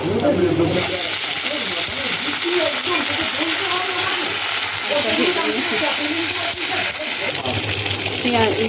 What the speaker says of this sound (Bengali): পেঁয়াজটা ভেজেছি, এবারের মধ্যে আলু দিয়ে দিচ্ছি।